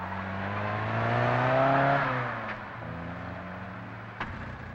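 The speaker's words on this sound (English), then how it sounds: "The smaller cars go first, leaving at 2-minute intervals." A 1962 Shell 4000 Rally car pulls away from the start line in heavy rain in Montreal, its engine revving up loudly and then easing off as it leaves, with a brief knock near the end.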